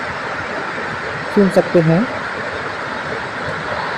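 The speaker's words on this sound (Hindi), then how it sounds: "झरने की आवाज़, वाटरफॉल की आवाज़ आप" The Handawada waterfall on the Govindar river in Narayanpur district sends up a steady, full-bodied roar of rushing water that never lets up. Someone speaks briefly over it partway through.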